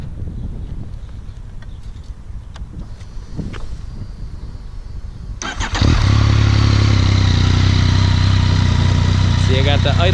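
A Yamaha FZ-09 motorcycle fitted with an Akrapovic exhaust and dB killer cranks and fires up about halfway through, then settles into a loud, steady, mellow idle after quieter handling noises.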